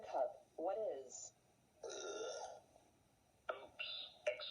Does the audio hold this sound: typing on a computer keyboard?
no